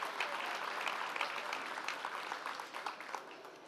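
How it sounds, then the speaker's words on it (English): A dense, close burst of clapping rises from the audience at the Take Off Istanbul International Startup Summit, then gradually thins and fades over a few seconds. "Can I please get a big applause for yourself, for the audience of Take Off Istanbul International Startup Summit?"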